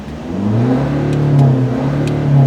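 A pickup truck engine, an Isuzu diesel, revs up repeatedly, close and loud, rising and falling in pitch over a few seconds.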